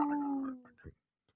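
A person imitates a wolf howl on a radio show, a short wavering vocal tone sliding slightly downward, followed by a brief breathy sound and a tiny click.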